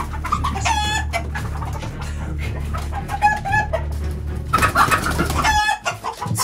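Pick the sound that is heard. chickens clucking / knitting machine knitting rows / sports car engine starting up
chickens clucking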